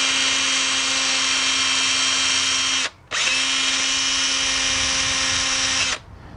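Power tool with a rotary brush cleaning rust off a BMW E46 brake caliper, whining loudly and steadily for about three seconds, stopping briefly, then running again for another three seconds close by.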